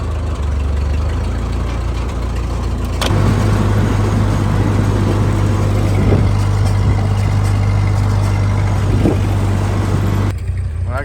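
An old Ford 8N tractor engine running steadily as it drives out onto the road, a loud continuous low chugging drone with rattles, close and alone, with no talk.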